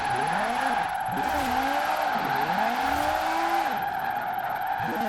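A car engine in Forza Horizon 4 runs loud and steady throughout, with its pitch sweeping up and down through revs and gear changes while tires squeal through the corners.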